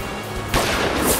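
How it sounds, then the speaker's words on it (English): A firework goes off in the adventure game Lost Horizon: a single sudden loud bang and crackling burst after a quiet moment, ringing out briefly. "Firework."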